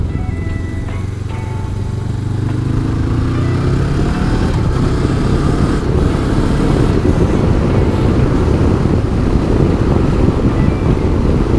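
Strong wind buffets the rider on a Honda CB500X trail motorcycle, a loud continuous roar that builds over the first few seconds and then holds steady and dense, with the engine drone mixed underneath and no talk.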